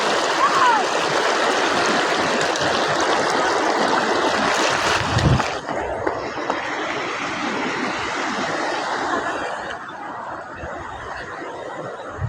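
Water rushes along a stream near a winter waterfall outside Kharagpur, a loud, steady churning flow that fills the whole stretch, easing slightly after the midpoint.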